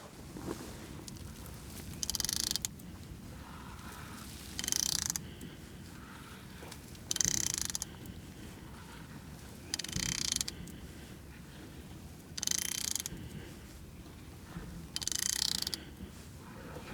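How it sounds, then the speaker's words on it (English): A Cat D6 dozer engine's crankshaft is turned over by hand. Bursts of ratcheting clicks repeat about every two and a half seconds, faint and close over a low background rumble, with no talk. "It's not as bad as I thought to turn it over on the crankshaft."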